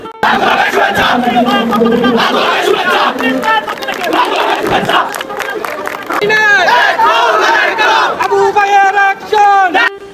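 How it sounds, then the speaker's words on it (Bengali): A political procession crowd at a birthday rally for Begum Zia chants slogans loudly as it approaches the stage, many voices shouting in rhythmic unison, close and continuous throughout. "প্রধান অতিথিকে উদ্দেশ্য করে একের পর এক মিছিল স্টেজের দিকে আসা শুরু করলো"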